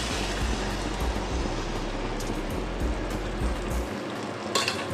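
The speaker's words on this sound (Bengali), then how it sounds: "এবার আমি ব্যাটারির জন্য যে ময়দা কর্নফ্লাওয়ারের জলটা ছিল তার সঙ্গে সামান্য জল মিশিয়ে আমি জলটা দিয়ে দিচ্ছি।" Fried onions sizzle steadily as a flour and cornflour water batter is poured over them for chilli paneer, a dense broadband crackle that stays loud and continuous throughout, with a brief clatter near the end.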